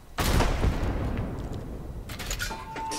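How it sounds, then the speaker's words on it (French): Artillery shell fired in a tank video game: a sudden booming blast kicks in early and rumbles on, followed by sharper crackling bursts near the end. "J'ai réussi à envoyer un obus."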